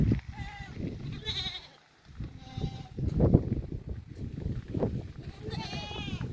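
Goats bleat repeatedly nearby, wavering cries rising over a background of people talking and shuffling.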